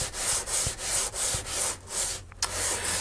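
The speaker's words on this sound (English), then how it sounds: "So here we go, start sanding." Rhythmic back-and-forth sanding on a wooden pickup veneer, raspy strokes about twice a second, close and steady, with a brief knock near the end and no talking.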